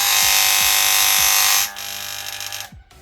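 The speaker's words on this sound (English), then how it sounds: "A clipper should not sound like this." A faulty electric hair clipper running abnormally loud, a harsh high buzzing drone with a rhythmic pulsing rattle that drops in level partway through, then cuts off near the end.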